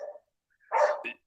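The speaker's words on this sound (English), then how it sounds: "we got some dogs in the background here" A couple of brief dog barks sound in the background, muffled and fairly faint, with a short yip at the start and a louder bark burst near the end.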